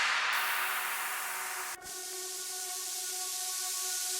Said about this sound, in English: And effects, which in this case is mostly white noise based here in the drop.